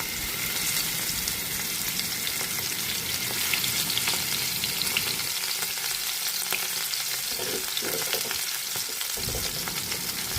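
Sardines frying in coconut oil in a pan, a steady loud sizzle and crackle that continues throughout, thinning slightly toward the end, with no voices.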